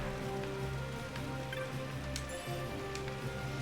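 Steady rain hisses across an outdoor area in Final Fantasy 12, a dense even wash beneath a low droning music bed, with a few faint chimes and whooshes surfacing briefly.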